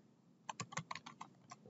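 Computer keyboard keys pressed for shortcuts, roughly ten quick, close clicks in an uneven burst after a short quiet start.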